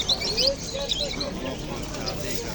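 At an outdoor bird market in Andijan, Uzbekistan, many small birds chirp and tweet in high, scattered calls over a busy background, with people talking nearby.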